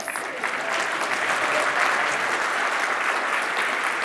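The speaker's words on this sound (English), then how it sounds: "Can I just get a quick round of applause for my change leaders?" A room full of people applauds the change leaders at a wastewater industry conference keynote, a dense, steady wash of clapping that holds at full strength for about four seconds before easing slightly.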